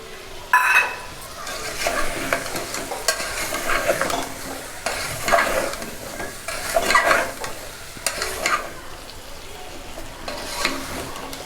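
Broad bean seeds are stirred into a frying potato and onion curry, with a spoon scraping the pan in repeated strokes over a soft, steady sizzle.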